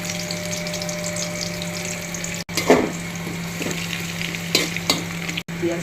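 Onion frying in a pan with bay leaf and garam masala for bhuna khichuri, a steady close sizzle broken by a few stirring scrapes and clatters, with no voices.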